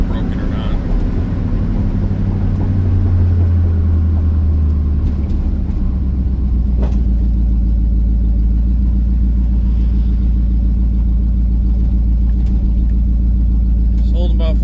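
Buick 455 V8 engine idling with a loud, steady low rumble that settles into an even drone throughout, heard up close without talk.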